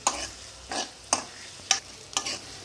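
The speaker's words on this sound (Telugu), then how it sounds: "ఆనియన్స్ బాగా బ్రౌనిష్ వచ్చేంత వరకు వేయించుకుంటే చాలా బాగుంటుంది." Onions fry in a pan until browned for tomato dal, a soft steady sizzle punctuated by four distinct scrapes of a spatula stirring at roughly even intervals.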